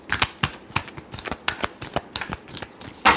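Tarot cards being shuffled by hand, a close run of quick crisp riffling snaps in an uneven rhythm, ending in a louder rustling burst, with no talking.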